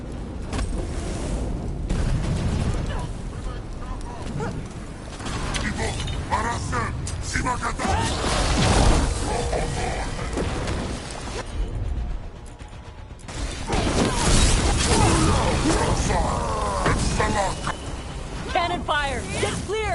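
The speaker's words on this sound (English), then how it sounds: "Cannon fire! Get clear!" Loud, dense combat audio from Dragon Age: The Veilguard with heavy booming cannon fire and clanking mechanical noise, voices shouting over the chaos throughout.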